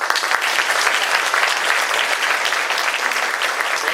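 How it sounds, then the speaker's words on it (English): Dense, sustained applause from a sizable crowd at an award ceremony fills the space, loud and even throughout with no pauses. "let's give them another round of applause"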